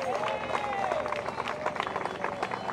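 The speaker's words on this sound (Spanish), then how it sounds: "Le damos más palmas de alabanza al Señor" A church congregation claps in praise during an evangelistic gathering in Santiago, Chile, with steady clapping under a loud, sustained voice and crowd noise.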